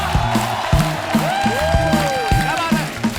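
A studio audience at The Kapil Sharma Show applauds and cheers for Gaurav, with steady close clapping mixed with whoops, while music plays underneath.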